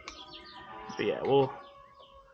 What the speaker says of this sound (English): Hopefully you guys don't mind the birds.